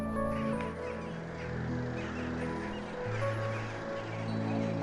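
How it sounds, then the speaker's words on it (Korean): A large winter flock of rooks calls at dawn over Ulsan city. Dense, overlapping harsh calls run on without a break, steady and somewhat distant, with no one speaking. "지금 떼까마귀 울음소리가 좀 들리죠."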